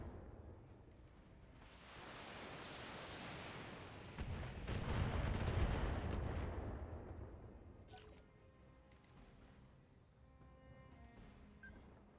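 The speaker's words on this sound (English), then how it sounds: "we'll sling this LRM against the Thunderbolt just to burn through some evasion" LRM missile salvos launching in the BattleTech video game, a dense rumbling rush of fire building over several seconds, then fading into lighter crackling impacts.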